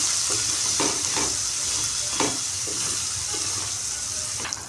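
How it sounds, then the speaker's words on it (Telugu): Turmeric being stirred into a rohu fish curry masala in a pan, with a steady sizzle throughout and a few soft scraping strokes of the spoon, close and moderately loud with no talking. "పసుపు కూడా యాడ్ చేసుకొని మొత్తం ఇలా మిక్స్ చేసేసుకోవాలి"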